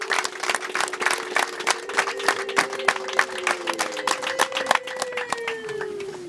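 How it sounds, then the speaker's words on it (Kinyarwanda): Wedding guests break into loud, sustained applause with dense rapid clapping and a rising, sustained ululating cheer carrying over the crowd, steady throughout. "geremo amashyi n'impundu yayandi atagerwa nyine"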